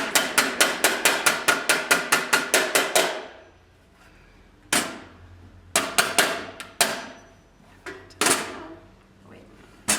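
Rapid run of about a dozen sharp hammer strikes in steady rhythm while assembling a large box, then a pause and several slower, scattered blows, close and loud.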